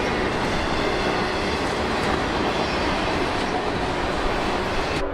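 A CSX freight train rolls past on a mild February afternoon, its steady, dense rumble of wheels and cars filling the whole stretch close by, with faint clickety-clack and light wheel squeal woven through.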